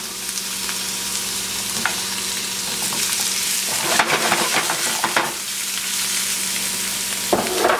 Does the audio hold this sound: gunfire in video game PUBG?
no